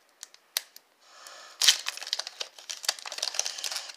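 A Pokémon-style trading card booster pack is crinkled and torn open close up: a few sharp plastic clicks, then a burst of tearing foil followed by continued crinkling and rustling.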